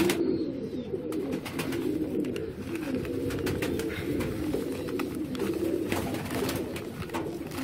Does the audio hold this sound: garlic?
no